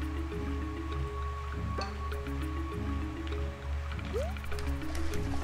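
Squishy, dripping water and splashy liquid sounds with a short rising gurgle, from swimming and drowning in the video game A Hat in Time, over a steady looping game music bed.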